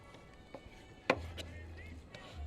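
A knife cuts pork into chunks for carnitas on a cutting board, one sharp close chop followed by a few softer knocks, with a low hum underneath.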